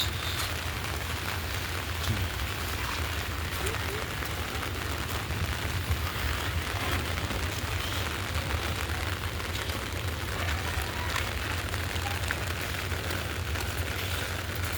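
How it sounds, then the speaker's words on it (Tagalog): Heavy rain pours down steadily in a village in Tabon, a dense, even hiss of water with a low rumble beneath, constant and unbroken without voices. "Lumakas na ang ulan."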